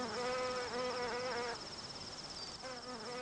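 Flies buzzing around flowers, a steady close insect drone with wavering pitch that drops off briefly midway and then returns.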